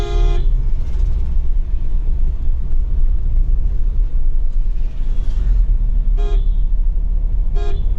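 Road traffic in Bihar, India rumbles loudly and steadily, with several short car horn toots near the start and end cutting sharply over the drone.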